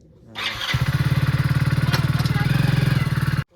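A motorbike starts with a short crank, then settles into a loud, close idle with a rapid, even thumping putter for about three seconds before cutting off abruptly.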